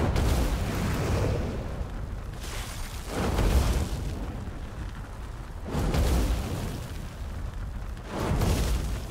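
Fire Blast spell explosions cast by a fire mage in World of Warcraft: four heavy, roaring booms spaced a few seconds apart, each swelling and then decaying into a lingering rumble, loud and with no talking over them.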